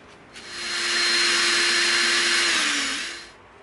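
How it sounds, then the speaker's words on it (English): A power drill boring a hole into EVA foam, a single whirring burst that rises quickly, holds steady for about two and a half seconds, dips slightly in pitch near the end, then stops, heard alone and up close. "Now we're gonna come in with a slightly larger bit."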